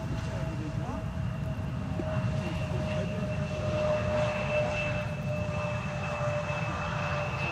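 A KLM Airbus A330-200 arrives at Amsterdam Schiphol Airport with a steady, moderate jet engine roar heard at a distance under people talking.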